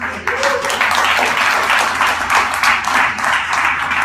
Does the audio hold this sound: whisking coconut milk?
no